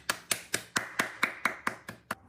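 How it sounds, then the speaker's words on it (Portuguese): Handclaps ring out in a steady rhythm for a round of applause, nine crisp, evenly spaced claps, close and clear with no voices over them. "salva de palmas."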